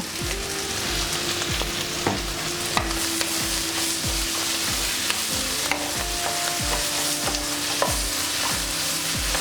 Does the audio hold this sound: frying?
yes